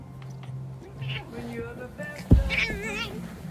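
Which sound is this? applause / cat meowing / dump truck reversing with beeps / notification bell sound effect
cat meowing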